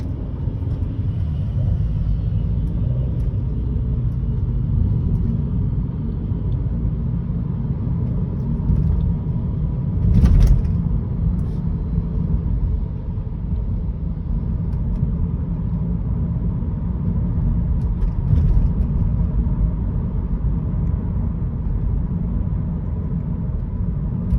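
A 2012 BMW 118i M Sport with a 2.0 engine and Steptronic gearbox, which keeps cutting out, drives along with a steady low rumble of engine and road noise inside the cabin, broken by a couple of brief knocks.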